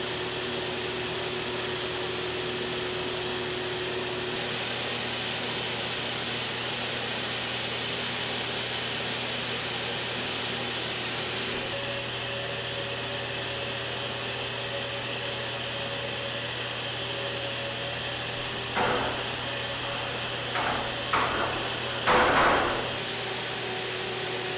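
Spray gun spraying finish onto a window frame assembly during a home renovation, long continuous hissing bursts of spray with a steady compressor hum underneath, followed by a few short spurts near the end.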